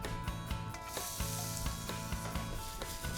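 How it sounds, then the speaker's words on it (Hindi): Onions hit hot oil in a pan for Brazilian pastéis filling, producing a loud, steady sizzle with faint scraping underneath. The sizzle runs unbroken throughout. "अब बातों बातों में प्याज डाल देते हैं"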